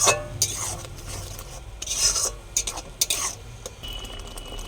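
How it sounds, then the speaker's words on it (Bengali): Fish curry with green chilli, garlic and ginger stirred and sautéed in a pan, giving close scraping and sizzling strokes in uneven bursts over a constant frying hiss. "এগুলো এবারে এটাকে কষাবো"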